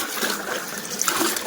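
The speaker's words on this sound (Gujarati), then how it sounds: "આ પાણી ભરે છે" Water gushes and splashes steadily as it is filled into a homemade desi swimming pool at home, a short continuous pour with no voices.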